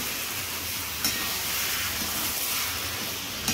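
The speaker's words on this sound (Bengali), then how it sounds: "এই ম্যারিনেট করা মাংসটা দেওয়া হলো। দিয়ে ভালো করে এটা কষিয়ে নিতে হবে" Marinated chicken meat sizzles in a hot pan, a steady, close hiss that runs the whole time with a couple of faint clicks.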